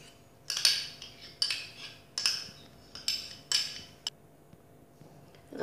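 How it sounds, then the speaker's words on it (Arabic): A spoon scrapes and clinks against a bowl while rice salad is mixed with mayonnaise, vegetables and lemon juice, giving about seven close, rhythmic stirring strokes with sharp metallic chinks and quiet pauses between. "ندمج هذه المكونات جيدا"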